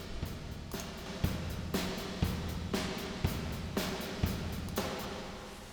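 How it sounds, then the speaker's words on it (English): Airwindows VerbThic reverb plugin processing a rhythmic sound, regularly spaced hits every half second or so, each with a thick, forward-sitting reverb tail, with no voices. "VerbThic is designed so that the reverb tries to come forward"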